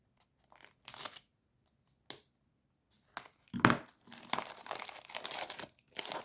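A mailed package is opened by hand. Bursts of crinkling and tearing paper come close and clear, with pauses between them and one louder crunch near the middle.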